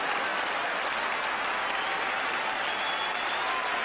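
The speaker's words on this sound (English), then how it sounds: "Gordon Armstrong takes the applause of the local supporters here" A football crowd applauds steadily at Sunderland v Aston Villa in the 1993 League Cup after a near-miss header. The dense, even clapping and crowd noise fill the whole stretch without a break.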